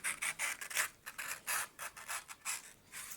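Scissors cutting the last side of a paper square for a homemade pinwheel, with a quick run of close, crisp rasping snips in an irregular rhythm and no talk.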